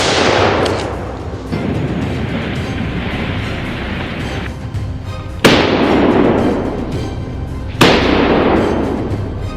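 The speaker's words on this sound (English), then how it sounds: "the hunters quickly locked on the target and opened fire." Hunters firing guns at wild boar in hilly terrain, loud sharp gunshots echoing outdoors over steady rushing background noise, with a couple of distinct cracks that ring and decay.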